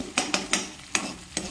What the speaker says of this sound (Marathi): गॅस बारीक ठेवून छानपणे परतून घ्यायचा आहे